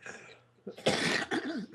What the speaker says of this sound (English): I knew your cough would come back.